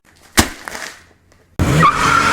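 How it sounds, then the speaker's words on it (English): A powerful car races past with a sudden burst of roaring engine and screeching tires, preceded by a sharp thud, loud and close in a dramatized radio-style scene. "With motor roaring, the powerful car races down upon Man of War."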